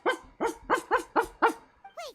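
A person imitates a dog barking: seven short, evenly spaced yelping barks, close and loud, ending in a higher whining yip, with no other sound around them.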